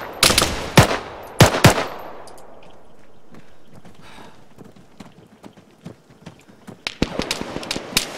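Machine gun fire in the ARMA 3 military shooter, a few loud close bursts of rapid shots at first, fading to scattered distant pops, then another burst returning at the end.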